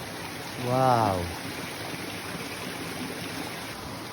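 A river stream on a nature trail in Sapang Bulak, Bulacan, gives a steady, soft rushing wash throughout, with a short exclaiming voice near the start.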